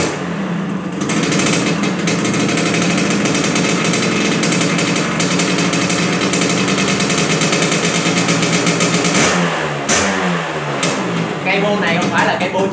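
A Suzuki Xipo 99 motorcycle with a 35 cylinder head and aftermarket exhaust runs loud and close with a harsh, rapid throaty exhaust rattle, then revs up and falls back near the end.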